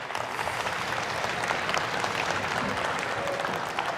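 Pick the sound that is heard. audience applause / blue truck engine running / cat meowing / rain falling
audience applause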